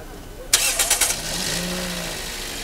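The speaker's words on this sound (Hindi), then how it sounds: "जरा स्टार्ट करें गाड़ी स्टार्ट।" A 2015 Toyota Yaris engine cranks and catches with a sharp burst, a few quick pulses, then settles into a steady, close idle.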